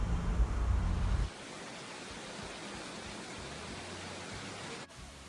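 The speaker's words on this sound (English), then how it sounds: "This is the waterfall." A waterfall near Bogor, Indonesia, reached by climbing steep steps, gives a steady, even rushing roar. A heavier low rumble opens the sound, then a continuous hiss of falling water carries on alone.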